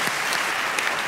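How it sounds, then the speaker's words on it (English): Gala audience applause, a brief dense burst of many hands clapping at once, steady and fairly loud, with no one talking over it. "And deserve a nice round of applause, I think."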